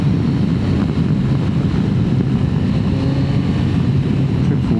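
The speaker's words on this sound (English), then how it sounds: "Yamaha's triple engine" A Yamaha Tracer 9 GT triple-engine motorcycle on a test ride gives a steady engine drone mixed with heavy wind buffeting at the microphone, loud and constant throughout.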